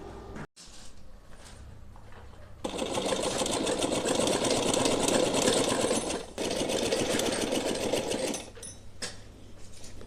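A sewing machine runs in bursts, stitching along pleated fabric for a multicolour Holi outfit for a Laddu Gopal idol, with a steady close whir that starts, runs for several seconds, pauses briefly and resumes.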